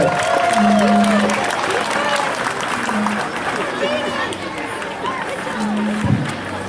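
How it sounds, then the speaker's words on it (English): A crowd applauds at a school book-float parade, steady clapping and cheering that fills the whole stretch close by, with voices, whistles and announcer-like talk layered over it. "Let's give another big round of applause for our kindergarten float."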